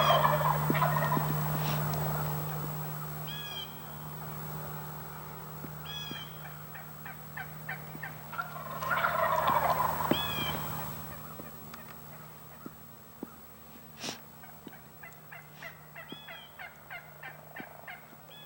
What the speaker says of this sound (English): The toms will, first thing in the morning, usually gobble at least once or twice